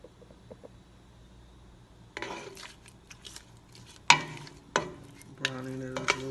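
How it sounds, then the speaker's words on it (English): Meat browns in a hot pan for chocolate curry. Quiet handling at first gives way to loud, spreading sizzling, broken by sharp metallic clacks of a utensil scraping and stirring, close by and without talk. "We just have to brown the meat."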